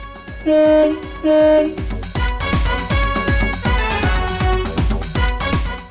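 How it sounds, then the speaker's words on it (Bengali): A car horn honks twice in long blasts, then a busy run of rhythmic, musical honking and tooting follows, loud and close. "এই দুটো হর্ন দেন তো"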